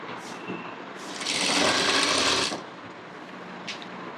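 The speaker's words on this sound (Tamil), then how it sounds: "சைட் சீம் தைக்கும்போது லைனிங்கை தனியாகவும் மெயினை தனியாகவும் ஸ்டிச் பண்ணுறோம்." A sewing machine runs in one loud, steady burst of about a second and a half while stitching the side seam of a blouse, with quieter handling clicks before and after.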